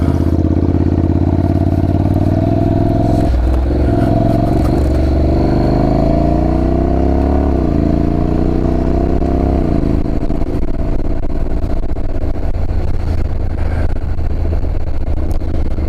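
A motorcycle engine drones loud and close during a ride, its pitch sliding up and down as the throttle changes. Heavy wind rush runs underneath throughout, and no one speaks.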